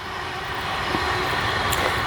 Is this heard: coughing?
no